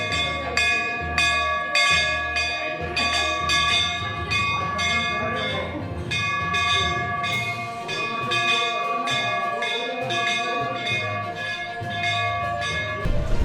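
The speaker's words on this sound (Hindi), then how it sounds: "जिसके जरिए मंदिरों के घंटे बगैर छुए बजने लगेंगे" Temple bells rung without being touched, using a touchless device made during the virus scare, clang in a rapid, repeated series of bright metallic strikes with long ringing overtones, loud and close, continuing steadily throughout.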